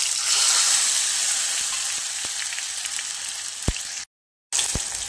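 Crushed garlic sautéing in a pan for stuffed brinjal, a steady close broadband sizzle with a few sharp stirring clicks and a brief dropout near the end.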